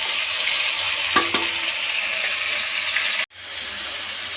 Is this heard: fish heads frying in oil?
yes